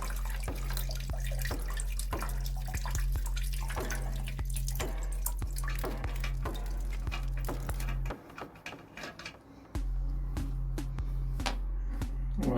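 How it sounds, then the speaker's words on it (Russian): Leftover water drains from a toilet cistern while its inlet valve is being replaced, falling as steady trickling and dripping under a constant low hum, with a brief drop in level about two-thirds through before the flow resumes. "Нужно что-нибудь подставить, так как будут сливаться остатки воды."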